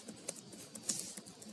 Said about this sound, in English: we are typing something here